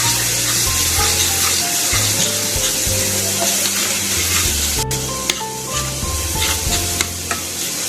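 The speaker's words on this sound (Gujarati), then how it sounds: "એને એડ કરશું અને એકદમ સરસ તેલમાં પહેલા એને સાતળી લેશું" A chili and garlic paste sautés in hot oil, making a loud, continuous sizzle and crackle with stirring scrapes, close by and with no voices.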